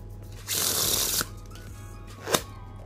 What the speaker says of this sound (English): let's try giving the deck a Pharaoh Shuffle.